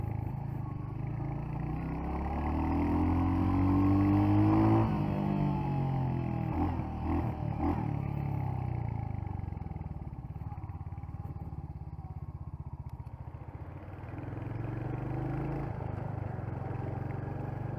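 Royal Enfield motorcycle on a test ride, an Interceptor 650 or Hunter 350: the engine revs up with rising pitch, drops through gear changes, then settles into a steady close throb before climbing again.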